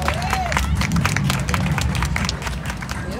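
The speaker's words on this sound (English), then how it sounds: "round of applause, everyone." Audience at an NAACP festival event in Madison, Georgia applauding and cheering loudly and continuously, with crowd noise and some voices mixed into the sustained clapping.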